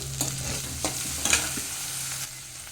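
Tomato stirred into a frying pan with a steady sizzle underneath, several scraping and knocking stirring strokes at irregular intervals, close and moderately loud with no talking.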